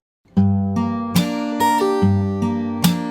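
Fingerstyle acoustic guitar plays a passage of a song, with a steady run of roughly seven plucked notes and chords over ringing bass strings, close, clear and sustained, with no speaking.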